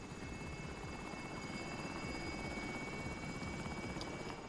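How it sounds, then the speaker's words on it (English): A helicopter in a PS4 video game, its steady rotor whir and engine drone holding at an even, moderate level throughout, with no speech over it. "What is this? A helichopper? What's up, my helichopper? Hurry up, helichopper. Land, helichopper."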